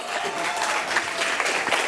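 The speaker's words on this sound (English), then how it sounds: "give him a round of applause for keep fighting for Michael." A crowd at a Michael Jackson tribute event gives a dense, continuous round of applause, steady and fairly loud for its whole short length.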